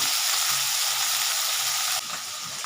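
Loud, steady sizzling and crackling of small mourala fish frying in oil, continuous throughout with a slight drop in intensity near the end, no voices.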